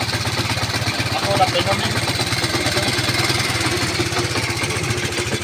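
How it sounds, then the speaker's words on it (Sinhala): A Honda C90 motorcycle fitted with a CDI ignition and no battery runs at a steady idle nearby, its rapid even putter continuing throughout while someone talks over it. "එන්න බයිසිකල් ස්ටාර්ට්."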